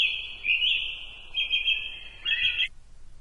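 A programmed bird chirp sound effect rings out as a few bright, high tweets in quick succession with short gaps between, then stops abruptly, leaving near silence.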